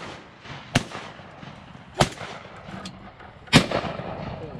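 Three loud shotgun blasts at ducks during a duck hunt, spaced about a second apart, each with a sharp crack and brief echo outdoors, with quiet ambience in between.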